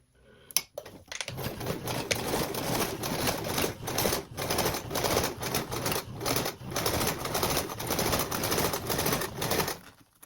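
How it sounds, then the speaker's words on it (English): A sewing machine runs a 3/8 seam along a tote bag, giving a steady, fairly close mechanical whir of rapid stitching that lasts for about nine seconds after a brief knock at the start. "now we can sew this seam with a 3/8 seam allowance"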